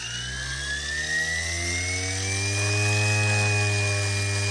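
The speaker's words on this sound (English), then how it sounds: "It's a quick swap, and see if it spins up. Ground idle." The electric motor of a 16-year-old Vario MD-500E radio-controlled model helicopter, freshly re-motored, spins up to ground idle around 900 RPM with a loud, close whine and steady rotor drone that climbs slightly in pitch and holds, with no talking.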